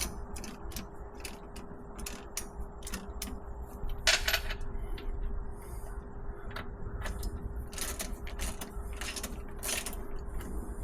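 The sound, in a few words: tightening a nut on a 1952 Chevy differential stud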